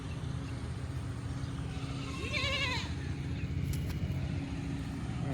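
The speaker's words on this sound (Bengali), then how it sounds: "এই তো অনেক ছাগল আছে আরো" Several goats bleat outdoors in a rural village beside a river. One wavering bleat rises clearly at mid-distance over a low rumbling background, and a fainter call follows.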